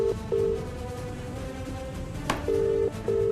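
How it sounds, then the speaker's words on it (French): A telephone rings in short repeated electronic tone bursts, a pair near the start and another pair near the end, steady and moderately loud over a low background hum. "Décroche le téléphone, Romana"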